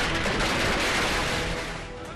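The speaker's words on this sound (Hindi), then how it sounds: "ये खुशी के पटाखे पुणे में राज ठाकरे की पार्टी के कार्यकर्ताओं ने फोड़े।" Firecrackers set off in rapid succession by party workers celebrating in Pune, heard as a dense, continuous crackle of bursts that stays loud throughout, with no pauses and no talk over it.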